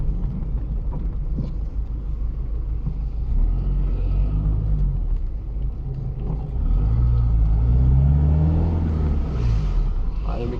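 Citroen ZX 1.9 diesel pulls out of a supermarket car park, a low steady engine rumble rising into a deeper accelerating drone, heard from inside the car with the window open.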